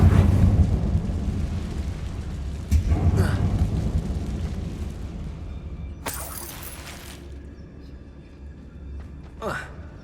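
A Confringo explosive spell cast in the video game Hogwarts Legacy, heard as a sharp blast with a shattering burst and a rumbling tail, followed a few seconds later by a second crackling impact and a smaller one near the end.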